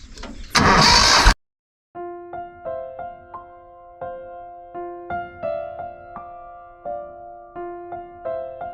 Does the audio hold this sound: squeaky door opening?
no